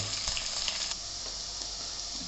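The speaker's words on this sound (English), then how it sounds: "Fry the onions out really well until they are almost golden brown" Chopped onions frying in a pan with whole spices, a steady soft sizzle with occasional stirring clicks, close and fairly quiet, no voices.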